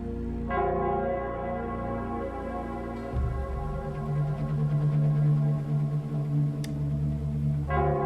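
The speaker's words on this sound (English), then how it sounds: "it's the Nell Squares bell" A deep, sustained bell tolls in the Nell Squares of the video game Wuthering Waves, its low resonant hum shifting pitch partway through and ringing on with long overtones, loud and close without any talk.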